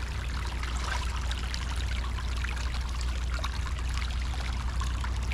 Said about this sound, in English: That's a beautiful creek